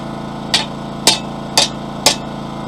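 A hammer strikes hot steel four times at an even pace, about half a second apart, while a fire poker is forged. Each blow is a loud, sharp, close ring over a steady forge hum.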